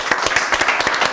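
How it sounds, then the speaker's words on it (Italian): A studio audience claps for a birthday on an Italian Torino Granata fan television show, a short, dense burst of close hand claps with no talking over it. "Doppio applauso perché oggi è il tuo compleanno"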